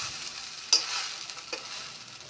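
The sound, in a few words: chow mein being stir-fried in pan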